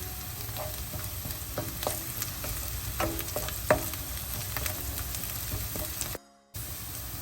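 Chopped green chillies tossed into hot oil for rava upma, a steady close sizzle with clinking stirs and scrapes throughout, then a brief drop to near silence near the end.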